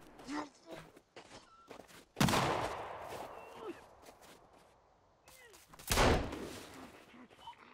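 Sons of the Forest gunfire: two loud, sharp blasts stand out against quiet rustling and small footstep-like clicks in the background, with voices talking at times.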